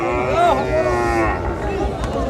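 Desi bulls at a crowded Bangladeshi cattle market give a loud, close, drawn-out moo over the low murmur of the market.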